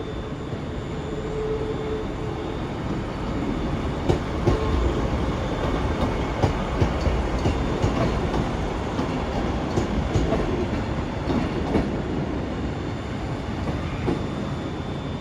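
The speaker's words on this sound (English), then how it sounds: "Arriving now is the 10:30 Scotrail service terminating here at Glasgow Central from East Kilbride." A ScotRail Class 156 diesel unit, 156503 from East Kilbride, rolls into Glasgow Central station with a steady rumble, rhythmic clickety-clack over the rail joints and occasional wheel squeals.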